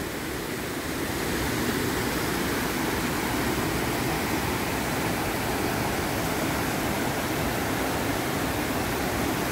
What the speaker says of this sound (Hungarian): Hát akkor meglegyen a mai napi vízesés is.